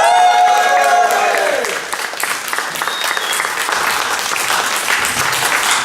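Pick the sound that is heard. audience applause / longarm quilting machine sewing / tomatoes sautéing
audience applause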